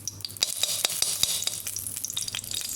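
Ghee heats in a pan for carrot halwa with a bright, crackling sizzle and quick, irregular pops close by. It runs steadily for a few seconds with no talking.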